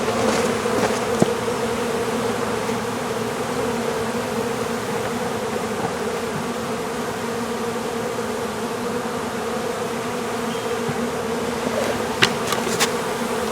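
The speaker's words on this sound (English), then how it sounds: "there's a fair number of bees in here" A dense swarm of honeybees hums continuously around a hive during package installation, a steady, full droning buzz that stays loud and close throughout, with a few faint clicks and no voices.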